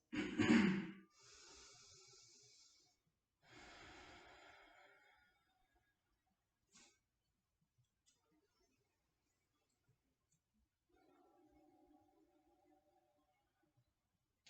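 Deep breathing during a hip flexor stretch on a mat: a strong close inhale, then two slow, softer exhales, followed by quiet and a faint low hum near the end.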